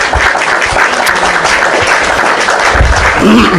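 Audience applause in a live Indonesian discussion on Christianity and Islam, a dense steady wash of clapping that fills the whole stretch at a constant level, with a few murmured voices faintly underneath.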